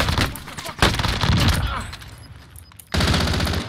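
Loud, close automatic gunfire from the Warzone video game, with rapid bursts of shots that cut out briefly and then resume.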